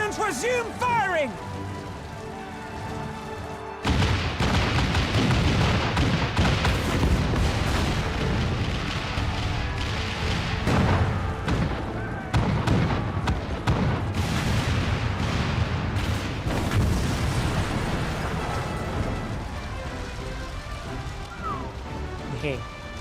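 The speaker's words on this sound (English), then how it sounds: "All cannons resume firing!" Cannons in a Final Fantasy XIV battle boom repeatedly amid dense, rumbling combat noise, with heavy blasts landing at irregular intervals and a voice speaking over the fighting.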